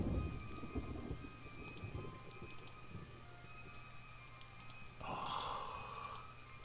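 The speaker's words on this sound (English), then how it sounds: "Just the sound of the rain." Rain falling in the video game Zork Nemesis, a steady soft hiss of drops with a low rumble underneath and a brief louder swell near the end, fairly faint and without voices.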